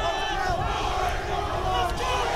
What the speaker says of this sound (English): The Warwick contingent already going mental